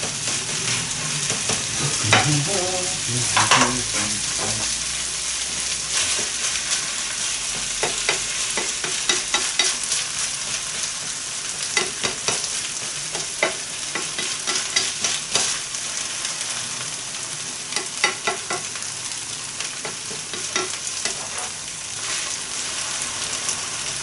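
Grated Charlotte potato hash browns fry in a pan, with a loud, steady close sizzle and crackle running throughout and occasional scraping and patting sounds, with no voices.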